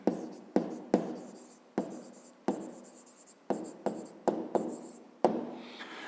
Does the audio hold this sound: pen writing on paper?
yes